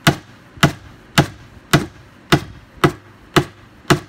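Eight loud, evenly spaced hammer blows drive a nail into a wooden wood duck box in a steady rhythm, close by and with nothing else in the background.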